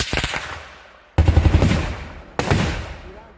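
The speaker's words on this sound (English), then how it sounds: "There is an exchange of fire right now." Automatic gunfire exchanged between bandits and army operatives in Orsu, Imo State, Nigeria: three loud bursts of rapid machine-gun shots, each decaying into echo before the next volley.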